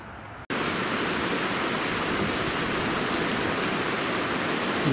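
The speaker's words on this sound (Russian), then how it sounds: "Речка шумит." The Virgin River rushes past in autumn in Zion National Park, a loud, steady broadband wash of flowing water that begins abruptly after a brief pause and continues unbroken.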